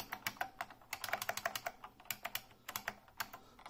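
Rapid, uneven keystrokes rattle on a Unicomp Ultra Classic buckling spring keyboard, each press a sharp, crisp click heard close and alone in a quiet room.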